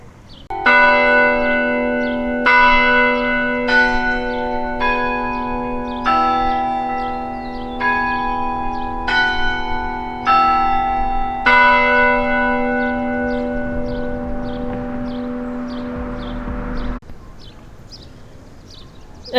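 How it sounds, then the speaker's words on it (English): The 48-bell carillon in the 150-foot Schaefer Tower rings out a loud, close sequence of struck tones, one after another with long, ringing overlapping decays, then all cuts off near the end. "The tower also has 48 bells, which can play 4 octaves."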